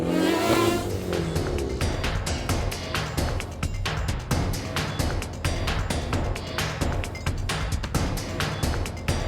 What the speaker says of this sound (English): The cars are all revving up, preparing for the race start.